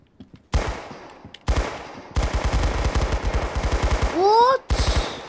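A Tommy gun rattles off rapid bursts of automatic fire in the Roblox game Arsenal, loud and close, with short pauses between volleys and a rising whoosh near the end.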